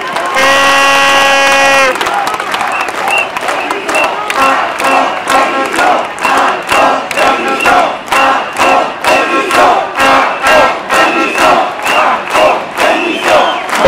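A protest crowd in Paris demonstrating against the health pass cheers and shouts in rhythmic waves, loud and close, with a held horn-like tone at the start before repeated bursts of chanting and clapping.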